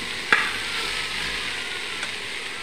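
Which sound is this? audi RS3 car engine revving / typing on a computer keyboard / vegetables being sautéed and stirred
vegetables being sautéed and stirred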